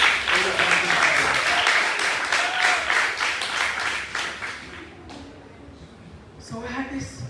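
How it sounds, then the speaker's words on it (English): An audience applauds the teams at a school debate competition final: broad, sustained clapping for several seconds that thins and fades, followed by a voice starting to speak. "can we give another round of applause for both our teams?"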